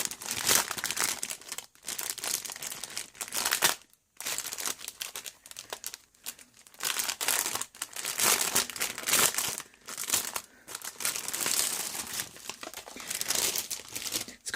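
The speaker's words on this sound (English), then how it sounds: "Let me take out the piece of paper quickly." Paper crinkles and crumples loudly and close as a sheet is pulled from a Pagan Parcels Witchy Essentials craft box, in bursts of rustling broken by short pauses, with no talking.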